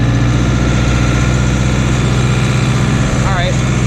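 A Case JX85 tractor engine runs steadily while driving into a field. The drone is loud, close and continuous, with a low throb throughout.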